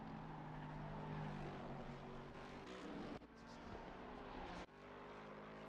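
Lexus race car at Suzuka during an endurance race, its engine roaring in a steady, loud, continuous drone heard from on board, with brief dips as it shifts.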